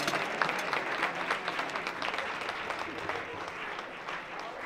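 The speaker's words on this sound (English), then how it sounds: "Give him a hand clap." An audience claps for a reverend at an NAACP branch anniversary celebration, dense sustained applause from a hall crowd filling nearly five seconds before gradually easing.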